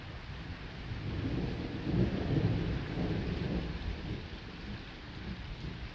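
Violent summer thunderstorm with intense electrical activity: heavy rain hissing steadily while a long, deep roll of thunder swells and fades, with no voices.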